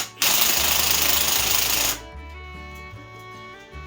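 A Milwaukee impact wrench pulls a bolt from an AMC 360 V8 engine during a teardown for a 1976 Gremlin: about two seconds of loud, close, rattling hammering, then it stops and a tonal hum carries on.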